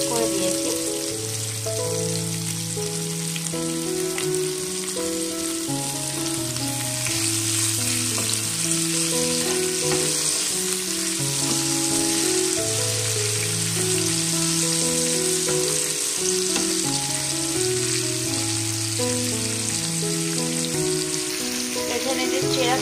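Onions and tomatoes sizzle and fry in a pan for mud-style fish curry prep, a loud steady crackle with scraping stirs throughout, while soft background music plays beneath.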